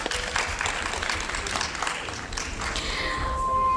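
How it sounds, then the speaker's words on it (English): At a national pharmacology conference in Rohtak, a hall audience claps for Dr. Sarita Goyal, head of the souvenir committee, a busy mix of many hands at moderate loudness with a faint steady tone underneath. "A big round of applause for ma'am."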